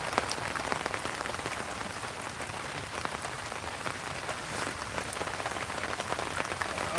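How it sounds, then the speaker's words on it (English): Rain falls steadily outdoors, a dense, even patter of drops hitting surfaces with crisp individual ticks scattered through a continuous wash of noise, close and moderately loud. "It's raining."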